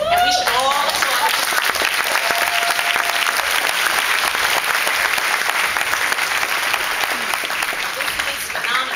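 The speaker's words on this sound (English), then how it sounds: "And we should all applaud." An audience at a class of 2010 graduation ceremony bursts into loud, sustained applause, with dense clapping filling all nine seconds and easing slightly at the end.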